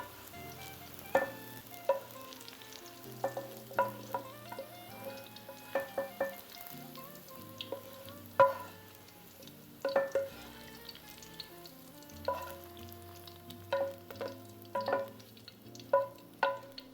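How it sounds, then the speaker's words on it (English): Sliced onions sauté in a pan with a soft, steady sizzle. Irregular metallic clinks and scrapes of a utensil stirring and tapping the pan cut through it, close by and with no one speaking. "We'll let them saute for a minute or so."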